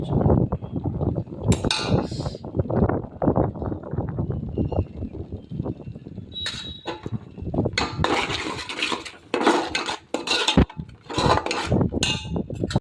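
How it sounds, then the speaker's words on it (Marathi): Chicken spices being fried and stirred in a pan with garlic masala and homemade masala, giving a steady sizzle with scraping strokes of a spoon and occasional clinks, close and fairly loud throughout. "मसाले घेतले टाकून आता मस्त फेर सुद्धा करून द्यायला फ्राय करून घेतले"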